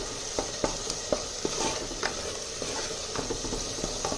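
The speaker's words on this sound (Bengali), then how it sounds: "আর একটুখানি ভাজবো। মশলাটা একদম হয়ে এসছে, পুরো তেল ছেড়ে দিচ্ছে।" Spiced masala with mashed potato frying in oil in a clay pot, a steady close sizzle broken by repeated sharp scrapes and stirring taps of a spoon, with no talking.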